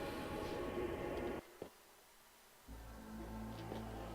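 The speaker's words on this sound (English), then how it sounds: "I do apologise if you keep hearing trains going past as well." A train rolls along tracks near a house, its broad rushing rumble loud at first and then cut off abruptly. After a quiet gap, a steadier low hum returns, with no talking.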